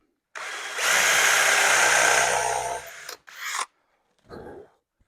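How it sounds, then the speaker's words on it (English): A power drill bores a hole in wood while building a rocking chair's front legs: one steady, loud whirring run of about two and a half seconds, then two shorter bursts. "That hole drilled."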